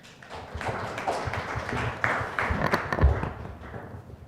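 An audience claps in a steady burst of applause to welcome a discussant at a Korean policy seminar on small-business jobs, with dense overlapping claps holding through the room and a few sharper thuds.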